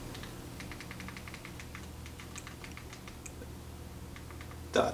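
Quick keyboard keystrokes as a URL is typed into a web browser on an Amazon Firestick, a steady run of light clicks with a louder clack at the very end.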